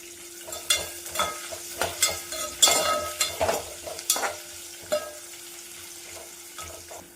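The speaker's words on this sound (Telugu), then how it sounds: "ఆనియన్ వేగుతున్నాయి." Long-sliced large onion frying in a pan for Telangana goat intestine curry, a soft sizzle under repeated rhythmic spatula scrapes and clinks, loud and near, with a steady low hum behind.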